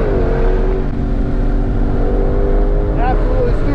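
A 2020 Mustang Shelby GT500 pulling hard on a racetrack, its engine roaring loud and close from inside the car in one sustained surge with rising whine near the end, voices talking over it.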